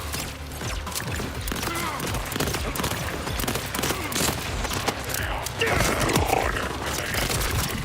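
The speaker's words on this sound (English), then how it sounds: "Got like little heat-seeking missiles." Dense bursts of rapid gunfire and small missile launches in the video game Borderlands 4, loud and continuous with explosions and mechanical clatter, a voice talking over the combat.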